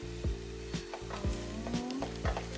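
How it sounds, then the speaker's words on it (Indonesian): Cooked lamb rib mandhi rice being stirred in a pot, with several soft scraping strokes in a slow rhythm over a steady low hum, fairly quiet and close. "Coba kita aduk"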